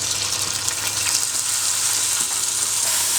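Chicken pieces fry alongside vegetables in an oiled pan, producing a continuous, close, loud sizzle with occasional stirring scrapes and no talk.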